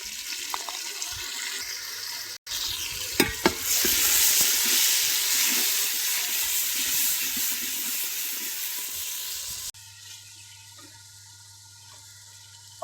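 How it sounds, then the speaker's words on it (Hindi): Ginger paste, tomatoes and green chillies fry in a pan for chicken mandi, giving a loud, steady sizzle with a few stirring scrapes early on, before dropping to a quieter low simmer near the end. "इसमें अदरक का पेस्ट शामिल करेंगे, 2 मिनट तक फ्राई करेंगे इसको भी"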